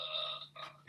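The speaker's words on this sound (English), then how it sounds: "I don't know if you can hear the burping in the background." Burping sounds in the background during an interview, a short series of throaty belches, moderately loud, with a sharper burst at the very end.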